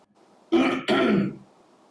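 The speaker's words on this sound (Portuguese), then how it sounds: "eu estava de vez em quando tossindo" A man clears his throat in two quick harsh bursts, close and loud against near silence.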